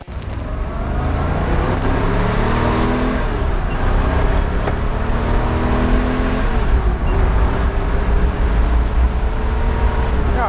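A 1964 blue convertible's engine revs while driving, loud and close, rising and falling in pitch through several gear-like sweeps over a constant road rumble.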